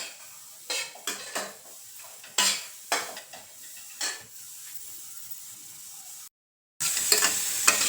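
Vermicelli roasting in a pan with repeated scraping strokes of a spoon stirring against the metal, over a soft steady sizzle, close and fairly quiet, with a brief gap near the end.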